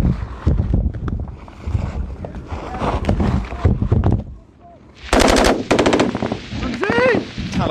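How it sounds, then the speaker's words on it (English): Intense gunfire during combat in Afghanistan, rapid close bursts of machine gun fire and rattling shots amid wind buffeting, with shouting voices mixed in. "by now their positions are under intense fire"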